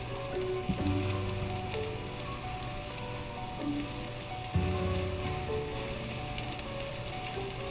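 Salisbury steak patties browning in a hot pan, a steady loud sizzle and crackle of frying with a couple of brief clinks of the pan, no talking.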